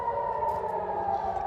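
A sustained civil defense air raid siren wails steadily in the distance in Israel during wartime, holding a nearly constant pitch throughout the brief moment.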